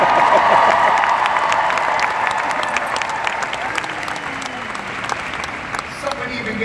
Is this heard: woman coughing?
no